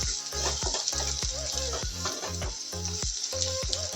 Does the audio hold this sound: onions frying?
yes